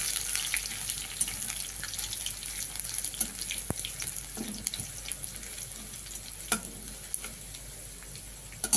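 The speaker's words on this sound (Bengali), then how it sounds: "রসুনটা ভাজা ভাজা হয়ে যাবে, দেবো কাঁচা লঙ্কা।" Crushed garlic and green chillies fry in oil with a continuous light sizzle and faint crackle, a few sharp stirring taps breaking through, heard close and quiet with no speaking.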